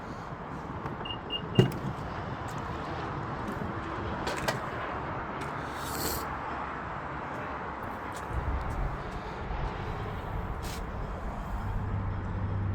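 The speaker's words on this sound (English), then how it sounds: "we can kick and it'll kind of open up the vehicle for us" Powered tailgate of a 2026 Infiniti QX80 Autograph opening after a kick under the rear bumper, a low steady motor whir running for several seconds with a faint click near the start.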